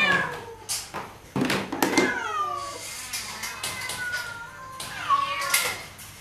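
Several rescued cats arriving from Phitsanulok meow repeatedly at close range, with overlapping calls of varied pitch, some drawn out, and a faint voice briefly heard in the background.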